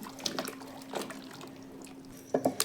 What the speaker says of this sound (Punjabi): ਪਾਣੀ ਇਹਦੇ ਵਿੱਚ ਆਪਾਂ ਪਾ ਦੇਵਾਂਗੇ ਤੇ ਇਹਨੂੰ ਚੰਗੀ ਤਰ੍ਹਾਂ ਦੇ ਨਾਲ ਪਾਣੀ ਦੇ ਵਿੱਚ ਮਿਲਾ ਦੇਵਾਂਗੇ